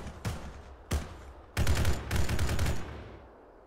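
Gunfire in the video game ArmA 3: a single shot, a second shot, then two dense bursts of rapid automatic fire, loud and close, with no talk over them.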